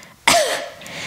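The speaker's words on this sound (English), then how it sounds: "if you do a fake cough" A single short, deliberate fake cough, sharp and close, with a slight throaty tail, followed by quiet.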